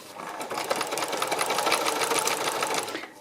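A sewing machine stitching smooth fabric runs in a fast, steady mechanical rattle, starting up softly, holding an even pace close by for about three seconds, then stopping.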